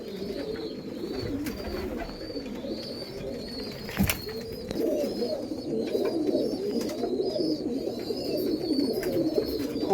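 A pigeon, an Andhra Fulsira male, coos close by in soft, repeated low throbbing calls over a steady outdoor background, with a faint brief flutter partway through.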